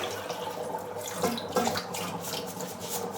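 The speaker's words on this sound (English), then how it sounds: "Dump out the water." Starchy rinse water from washed rice pours out of a bowl, a close, steady gush with a couple of splashy surges and no talk.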